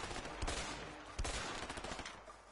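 Gunfire in the video game A Way Out, a muffled stretch of shots with two stronger thumps over a dense, noisy background.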